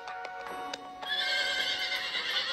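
Stallions in an animated superhero series whinny in high, shrill neighs over a few quick hoof clip-clops, loud and close, with a longer sustained whinny rising midway.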